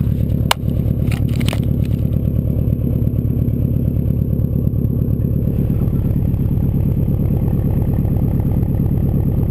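A 2002 Subaru WRX wagon idling with an exhaust silencer fitted, giving a steady, even, low rumbling burble heard close up, with one brief click near the start and no talking.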